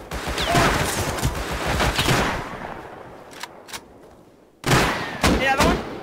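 Heavy gunfire in the survival game Rust: a loud, dense burst of rapid shots for about two seconds, a few isolated sharp shots after a short pause, then another loud volley, with people talking in the background.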